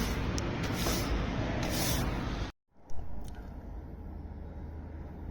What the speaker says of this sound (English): Just sprayed the sill